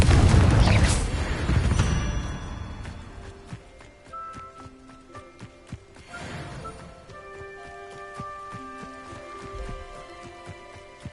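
Confringo blasting spell in Hogwarts Legacy: a loud explosive boom with a long rumbling tail, followed by a second blast, then scattered clicks, taps and ringing tonal game effects.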